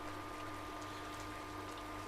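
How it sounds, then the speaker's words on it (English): Sparkling spring water fizzing, a dense, even crackle of tiny bubbles running steadily at moderate level with a faint constant hum beneath. "This is just sparkling spring water, nothing special"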